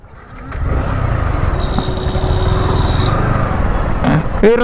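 A motorbike or scooter being parked, its engine droning loudly and close for a few seconds at a steady idle, before it cuts off and voices break in at the very end.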